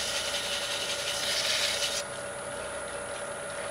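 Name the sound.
sanding wooden bowl on lathe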